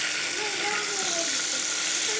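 Chicken popcorn pieces deep-frying in hot oil give a dense, continuous bright sizzle, loud and close, with faint wavering tones running through it.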